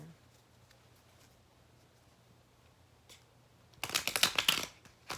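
A brisk burst of tarot card shuffling, crisp papery riffling lasting about a second and a half after a quiet stretch.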